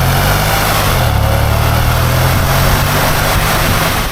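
A 500bhp Range Rover engine runs loud and close in a steady, throaty drone whose pitch shifts slightly up and down, heard alone without voices.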